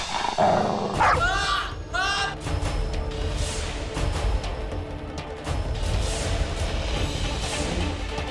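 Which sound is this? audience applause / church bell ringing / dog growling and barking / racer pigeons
dog growling and barking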